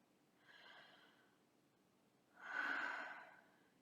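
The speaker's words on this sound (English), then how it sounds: "Just breathe." Two breaths in a quiet room: first a soft, faint inhale, then after a pause a deeper, louder breath that carries a slight nasal snort. Both are close and there is no talking.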